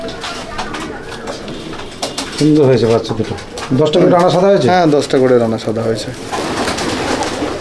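Pigeons in a Madrasi pigeon loft coo close by in loud, repeated bursts, overlapping with people talking nearby.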